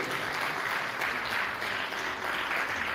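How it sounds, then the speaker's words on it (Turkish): An audience at a Yunus Emre poetry evening applauds, a thick continuous wash of clapping that holds steady throughout. "Efendim alkışlarla onları inşallah davet ediyoruz."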